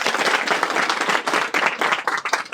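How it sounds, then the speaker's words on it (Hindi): An audience at a temple trust gathering claps steadily to welcome new trust members, a continuous, fairly close round of applause with no speech over it. "तालियों से स्वागत किया जाए इनका।"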